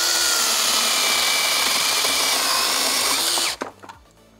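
A Procraft PKA 32 Li cordless chainsaw buzzes loudly as it cuts through a 7-8 cm branch, pitch sagging under load, then stops abruptly, followed by a few light knocks.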